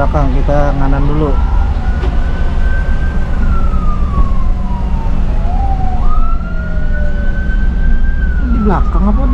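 An ambulance siren wails from behind a bus on a highway, its long rising and falling tones sweeping slowly over loud road and engine rumble, with a brief horn-like burst near the start and end and voices talking.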